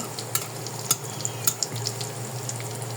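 A homemade evening snack fries in oil in a pan, making a quiet, steady sizzle with a few sharp pops and crackles and a low hum beneath.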